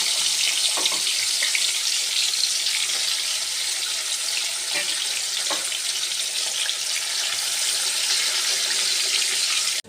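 Katla fish pieces rubbed with salt and turmeric fry in hot oil in a kadai, giving a steady, loud, close sizzle that runs unbroken throughout, with a few faint clinks of utensils.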